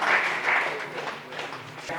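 Audience applause at a ceremony honouring a Dharwad soldier selected to SSC GD, a short burst of clapping that fades and rises again over about two seconds.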